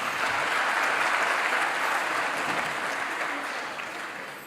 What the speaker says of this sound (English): So big applause to our admin team too.